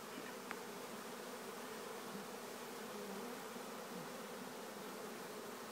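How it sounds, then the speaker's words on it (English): A swarm of bees hums around a beekeeper, a dense continuous buzz filling the air, steady and fairly faint, with no talk over it. "How many bees do you think are in this area?"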